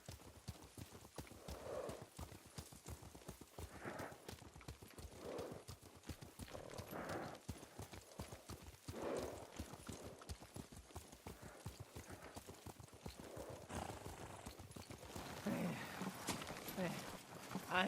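Horse hooves clip-clop in a steady walking rhythm through a night ride, with occasional snorts and a whinny, under a continuous background bed.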